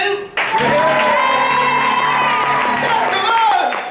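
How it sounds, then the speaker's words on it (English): A theatre audience at a community stage production applauds and cheers for the lighting crew, loud sustained clapping with whoops that starts abruptly after a brief voice and continues unbroken. "Right now, I'd just like a special round of applause for our lighting crew."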